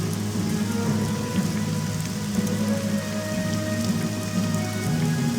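Steady rainfall over the Grazelands in the video game Morrowind, a continuous dense patter of drops with a low ambient hum beneath, even and unbroken from start to finish.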